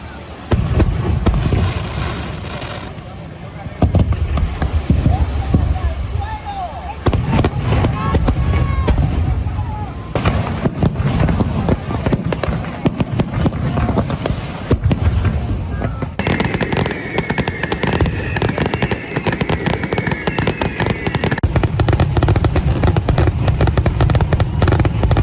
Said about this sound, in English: Everyone then heads to the beach for the huge firework display.